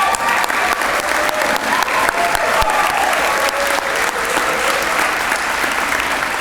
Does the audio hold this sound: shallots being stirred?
no